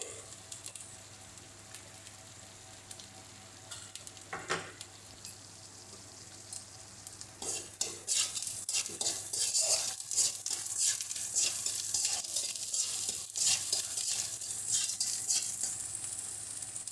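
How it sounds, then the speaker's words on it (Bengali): Spice masala frying and being stirred in a pan over low to medium heat, a steady sizzle with repeated scraping strokes of a spatula growing busier partway through, close and continuous with no voices. "এই সময় গ্যাসের স্টিমটাকে একটু লো টু মিডিয়াম স্টিমে এনে তারপরে মশলাটাকে কষাবে"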